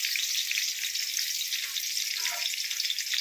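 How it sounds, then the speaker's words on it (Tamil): Small shallots frying in hot oil after mustard seeds for a squid curry, a steady dense sizzle that stays loud and even throughout, close up with no talking. "இப்போ நம்ம வெங்காயத்தை சேர்த்துக்கலாம்"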